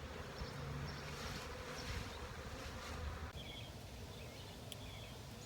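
Honeybees buzzing around an open beehive during a hive check, a steady low hum of many bees with occasional louder passes close by, and faint birdsong in the distance.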